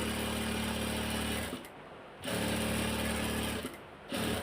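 A sewing machine stitches down both sides of a piece of fabric, steady fast mechanical whirring in two runs of about one and a half seconds each, separated by a short pause, close and clear.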